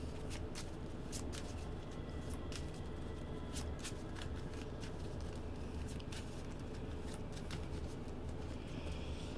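Cards from the Arkham Horror card game being shuffled by hand, a steady run of crisp riffling snaps and flutters close to the microphone over a faint background hiss, with no talking.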